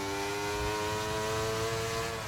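A race car in a sim racing game powers out of Silverstone's final corner after the Vale chicane, its engine note a steady, loud, continuous whine with strong harmonic bands rising gradually, no voices over it.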